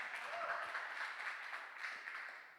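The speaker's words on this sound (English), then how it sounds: "now I feel like we need another round of applause for Evan also after that" Applause from a conference audience at a healthcare industry show, a steady dense wash of many hands clapping throughout, moderately distant and fairly soft, with no clear voices on top.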